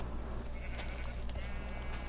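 Minecraft sheep bleating in-game over a steady background hum, a few short bleats at moderate level with no talk.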